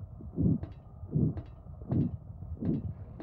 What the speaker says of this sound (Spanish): Suenan latidos, ¿lo oís?